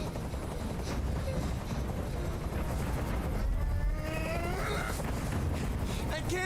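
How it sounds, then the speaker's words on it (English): A helicopter in the video game Detroit: Become Human drones and thrums steadily in the background, moderately loud and continuous, while a voice speaks over it midway. "I can't stand that noise anymore. Tell that helicopter to get out of here."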